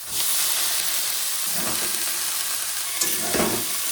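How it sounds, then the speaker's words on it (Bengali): Piring greens frying in mustard oil in a wok give a steady close sizzle with hissing steam, broken by a few louder crackling bursts as they are stirred. "সবজিগুলো ভাজা ভাজা হয়ে গেছে, এবার কেটে ধুয়ে রাখা পিড়িং শাক দিয়ে দেবো।"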